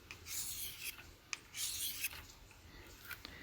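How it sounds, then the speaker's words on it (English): A knife blade is drawn across a whetstone with light pressure, producing repeated rasping, scraping strokes, each a second or so long with brief gaps, close and fairly quiet. "just enough to hold the blade on the stone, and it sharpens your blade really nice"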